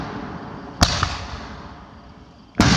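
Fireworks at a pig roast go off in two sharp, loud bangs over a constant roaring crackle of distant bursts.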